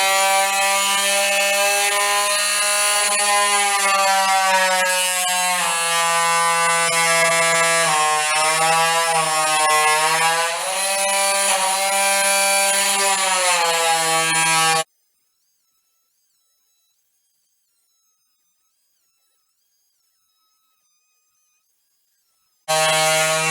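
An oscillating multi-tool buzzes loudly and steadily for about fifteen seconds with a shifting, whining pitch, then cuts to silence before briefly starting again at the end, inside a self-build house during mist-coating work.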